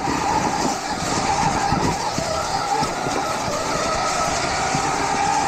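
A Stark Varg electric motocross motorcycle rides along, producing a continuous loud whine with rushing wind and rolling tire noise, steady throughout without speech.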